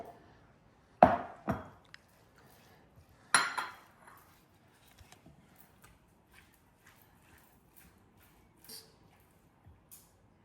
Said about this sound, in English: Now we're going to mix everything.